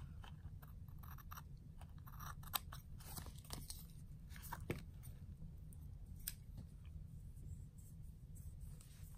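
Scissors snip through washi tape during tag crafting, with faint, close crisp cuts and light paper crinkles scattered over a quiet background.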